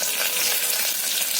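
Curry leaves and cumin seeds crackling in hot oil for a dal tempering, a loud, dense, continuous sizzle heard close up with nothing else over it.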